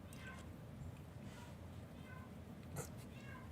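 A pet cat makes a series of faint meows and chirping noises at intervals, soft and fairly close over a quiet background hum.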